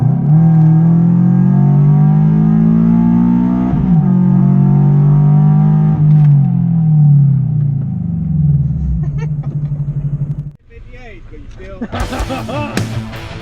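A loud Scion FR-S engine with a full catless SpecD exhaust revs and idles with a deep, raspy exhaust rumble, the pitch rising and falling, before a voice speaks over it near the end.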